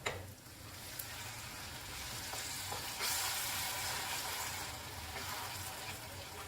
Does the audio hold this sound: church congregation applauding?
no